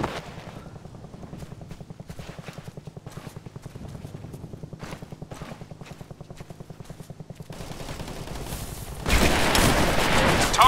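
Combat gunfire in Operation Flashpoint: Red River, a modern military shooter: a steady stutter of rapid automatic shots, moderately loud, building into a heavy, dense barrage near the end.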